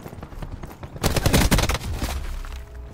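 Rapid burst of gunfire from a new weapon in Call of Duty Black Ops 4 beta multiplayer, loud and close, erupting after a quieter stretch and fading into lingering game noise.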